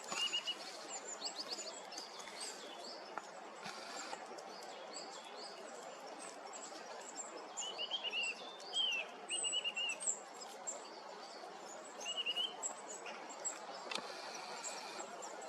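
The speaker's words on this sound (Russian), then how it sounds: "Снегирь." A bullfinch calls in soft, short piping notes scattered over several seconds, faint against a steady outdoor hush with other birds chirping distantly around it.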